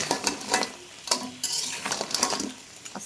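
Crabs coated in turmeric and salt fry in hot oil, a sizzling crackle broken by repeated scraping stirs and clinks of a utensil against the pan, close and busy throughout.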